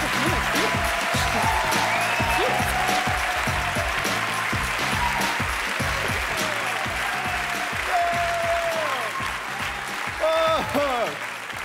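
Loud, sustained applause from a comedy awards crowd in Zurich greeting comedian Matteo Gudenrath, a thick continuous wash of clapping with a rhythmic music beat underneath and rising tonal sweeps near the end.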